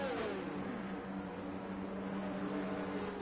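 A racing car weaving to warm its tyres before forming up on the grid in Belgium, heard as a steady, distant engine drone with a faint rising pitch, no voices.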